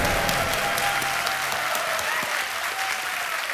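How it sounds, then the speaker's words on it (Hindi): A studio audience on the Indian quiz show Kaun Banega Crorepati claps steadily, giving a dense, sustained wash of applause that holds at an even level throughout. "ताली बजती रहनी चाहिए।"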